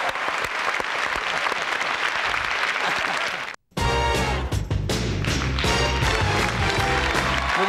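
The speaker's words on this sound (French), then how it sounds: "Applaudissements pour lui." Loud studio audience applause on a French radio show fills the first half, cuts off abruptly for a moment, then gives way to music with a steady beat.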